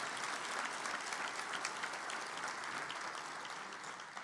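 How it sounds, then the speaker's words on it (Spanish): A church congregation at a Spanish-language sermon claps together in a continuous, even wave of applause, fairly distant and soft, holding steady the whole time. "dele ese aplauso al Señor."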